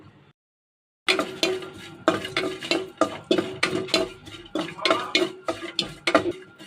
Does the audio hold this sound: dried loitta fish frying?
yes